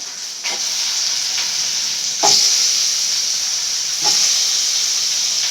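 Tomato pieces frying with onions in a hot pan give a loud, steady sizzle and hiss, broken by a few sharp stirring scrapes that stand out clearly.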